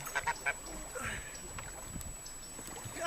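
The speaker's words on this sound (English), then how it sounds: "stupid geese" Geese and ducks honk and quack a few times near a small boat on open water, with light water sounds and faint background noise in between.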